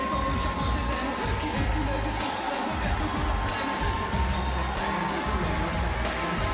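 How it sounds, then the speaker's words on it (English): A large crowd cheers and shouts steadily at the South Paris Arena ahead of a women's goalball quarterfinal at the Paris 2024 Paralympics, a dense continuous roar with no letup. "Great support and atmosphere in the crowd at the South Paris Arena, making their voices heard before the game starts."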